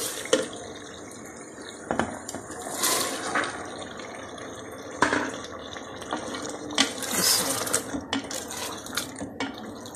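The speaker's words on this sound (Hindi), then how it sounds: "ये देखिए अब मैं चने डालने लगी हूँ।" Chickpeas being added to chicken frying in a pan sizzle and hiss continuously, with soft clinks and scrapes from stirring, moderately faint and close.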